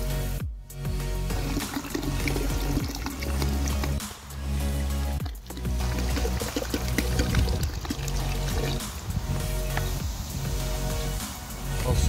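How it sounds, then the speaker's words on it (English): Coca-Cola pours steadily into a container with a gurgling, fizzy wash, broken by a couple of brief pauses, close by and fairly loud, with no talking. "We will now pour some Coca-Cola inside."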